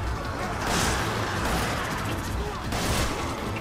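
Gunfire in Resident Evil 5 Mercenaries on No Mercy mode, dense layered shots and bursts running continuously under a chaotic mix of game noise, with louder swells near the start and end.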